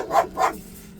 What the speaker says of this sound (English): I switched dogs, so now you have different dog noises